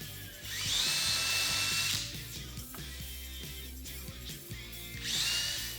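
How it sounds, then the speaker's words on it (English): A power drill fitted with a self-centering hinge pre-drilling bit bores pilot holes for hinge screws in wood, whining loudly in two bursts with a quieter steady run between them and no talking. "They center drill the drill bit in the hinge hole, so you don't have any weird stuff happen when putting your screws in."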